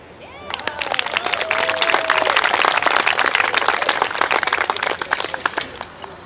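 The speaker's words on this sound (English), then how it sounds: "Another round of applause for Lucy and our color guard." Audience clapping fills a band show parent night after a color guard performance, building from a few claps with a whistle or cheer into dense, loud, sustained applause.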